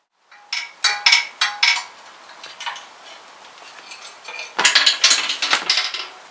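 A floor ramp's standard jack mechanism ratchets upward in bursts of sharp metallic clicks and ticks, close and fairly loud, with a pause in the middle before a denser run of clicking.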